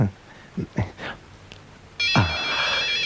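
A mobile phone ringtone starts abruptly and keeps ringing loudly, a bright repeating electronic melody, after a few short bursts of speech.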